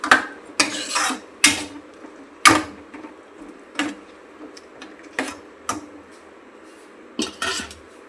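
Sambar stirred in a cooking pot, a spoon giving about a dozen sharp scraping knocks at an irregular pace, each clear and close against a quiet background.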